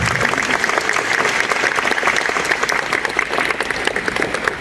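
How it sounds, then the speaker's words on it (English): Sustained applause from an audience at a congressional art showcase for the artists, a thick, even wash of clapping at a steady level. "Let's give another round of applause for our artists."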